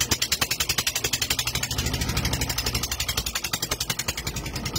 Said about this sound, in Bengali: তো নৌকা আমাদের স্টার্ট দেওয়া হলো।